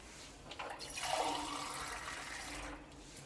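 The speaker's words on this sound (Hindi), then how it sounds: "अब इसके अंदर हम फिर से 1 गिलास पानी ऐड करेंगे" A short gush of water, about a glass, pours into a cooking pot for chicken biryani and splashes, rising then easing off, fairly soft and alone.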